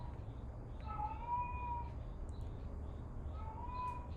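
A house cat meows twice, faint and indoors, two short rising calls separated by a pause over a low steady room hum.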